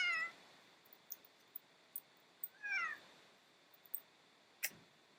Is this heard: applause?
no